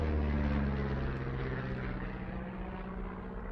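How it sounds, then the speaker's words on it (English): A low, steady engine drone of an airplane flying over in the video game Firewatch, loud at first and slowly fading as it passes, with no talking. "You see that plane?"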